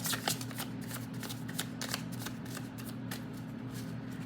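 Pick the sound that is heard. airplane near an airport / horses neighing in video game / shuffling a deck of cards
shuffling a deck of cards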